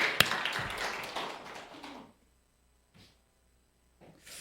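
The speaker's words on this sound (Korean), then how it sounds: "우리 박수 한번 드리겠습니다." A church congregation applauds for about two seconds, a dense patter of many hands with a few sharper claps, then the room falls almost silent apart from faint brief rustles.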